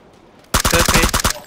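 A rapid burst of automatic gunfire in a squad shooter game, about ten sharp, loud shots in quick rhythm after a quiet start, with no talk over it.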